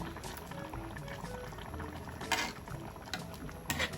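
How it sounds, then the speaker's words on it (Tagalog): Coconut milk simmering in a cooking pot for laing, a soft, steady bubbling close by that carries on throughout, with a few brief louder bursts over the low burble. "hintayin lang ating maluto pa ng kaunti at maiga yung gata"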